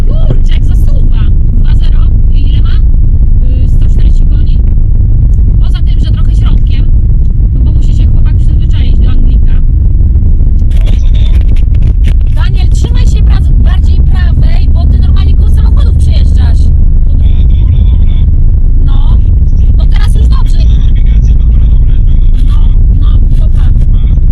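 An old car driving along a road on the way home, its low engine rumble steady and close throughout, with occasional clicks and rattles from inside the cabin and people talking intermittently.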